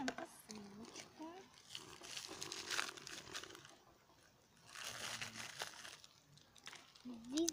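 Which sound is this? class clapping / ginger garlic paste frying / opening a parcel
opening a parcel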